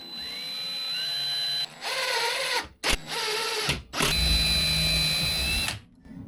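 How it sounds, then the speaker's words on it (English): Power drill pre-drilling holes in a microwave cupboard door, several short whirring bursts with brief pauses between, close and fairly loud, no talking. "We're going to pre-drill some holes so we don't stuff this up"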